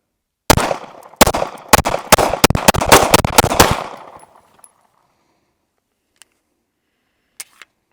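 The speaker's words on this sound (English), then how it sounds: "That is a really easy gun to shoot." A rapid string of about ten sharp gunshots from a Taurus GX4 pistol, loud and close, fired over roughly three seconds, followed by quiet with a couple of faint clicks.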